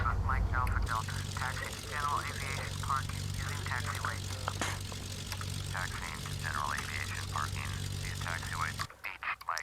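A private propeller plane taxis in Flight Simulator X, its steady engine drone running under ongoing talk before cutting off near the end.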